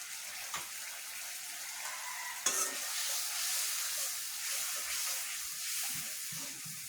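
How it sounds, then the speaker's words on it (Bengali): Cumin paste and spices sautéing in a pan with fish over raised heat, a soft steady sizzle broken by a few sharp spoon clicks and scraping stirs, fairly quiet and close. "ভালোভাবে কষানোর জন্য চুলার জালটা একটু বাড়িয়ে দিই মাছটা ভালো কষানোর জন্য আমি মশলাটা কষাচ্ছি"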